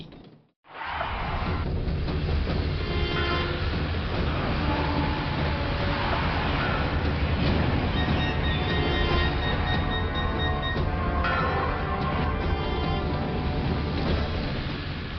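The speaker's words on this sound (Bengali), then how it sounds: "যেভাবেই হোক ট্রেনটাকে আমাদের থামাতেই হবে।" A train rumbles past up close, a loud, dense, continuous roar of wheels and machinery with rattling and squealing metal that barely changes from start to finish; no voices.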